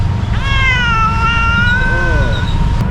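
A male cat gives one long, drawn-out meow that slides in pitch and then trails off, loud and close on a city street in BGC, Philippines, over a steady low traffic rumble.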